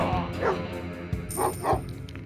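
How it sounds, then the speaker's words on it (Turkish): Dog barking in the arcade brawler Raging Justice on PS5, a few sharp yips and barks over busy game music and effects. "Gene geldi şu köpek."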